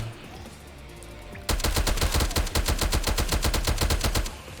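Rapid semi-automatic gunfire in a video game, fired in quick double taps: a dense, loud string of sharp shots bursts in after a quiet start and keeps up steadily for about three seconds.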